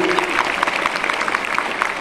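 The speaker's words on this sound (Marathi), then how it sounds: "टाळ्या विद्यार्थ्यांनी जोरात वाजवल्या पाहिजे" Students applauding athletes at a school sports felicitation ceremony: dense, continuous crowd clapping in a hall, fairly loud and sustained across the whole moment.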